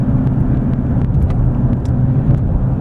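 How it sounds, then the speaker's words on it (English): A 2014 Nissan Frontier SV 4x4 truck driving over a rough road, giving a continuous low rumble of engine and road noise with faint knocks and no voices. "Very smooth and actually very forgiving for a truck on rough roads such as this one."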